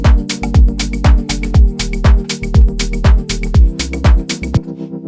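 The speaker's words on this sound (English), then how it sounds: "So I'm just going to put a reverb directly on the channel." Warm synth pad with reverb on the channel: sustained chords pulse rhythmically under a steady, punchy kick drum, with a short tail as the music stops near the end.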